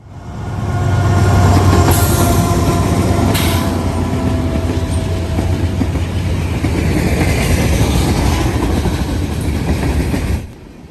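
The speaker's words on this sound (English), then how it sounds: "178 heading eastbound on the Dayton District at 190. Here he was led by a solo AC-44C6M." Eastbound freight train 178, a general manifest led by a single AC-44C6M locomotive, rolls past on the Dayton District with a loud, steady rumble of wagons and wheel clatter, a couple of horn-like tones early on.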